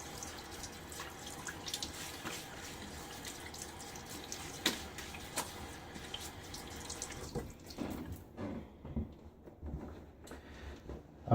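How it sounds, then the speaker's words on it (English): Water running steadily from a bathroom sink tap with splashes and drips as someone washes their face, quiet and close, the flow easing toward the end, no talking. "let me go ahead and splash some water on my face"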